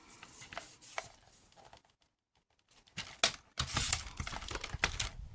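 Scrapbooking paper cut with scissors or a trimmer, crisp papery snips and crinkles close up, a quiet pause midway, then louder rustling and slicing toward the end.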